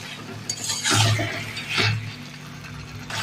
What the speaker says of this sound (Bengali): চিকেনটা দিয়ে দিচ্ছি, ভালো করে নেড়ে চেড়ে মশলার সাথে কষে নেবো।